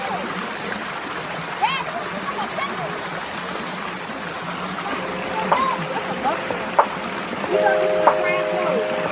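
A waterfall stream at High Shoals in South Mountain State Park rushes as a continuous broadband wash, while faint voices of a family and a few short splashes or bird-like chirps sit over it.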